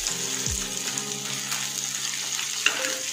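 Mussel fish frying in a pan for a Malvani-style recipe, a steady close sizzle and crackle of hot oil running throughout, with a brief low clunk near the start.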